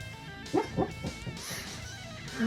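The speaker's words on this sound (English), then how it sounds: "my son's dog is here" An indoor dog gives a few short, close barks and yips, spaced apart over a quiet room background.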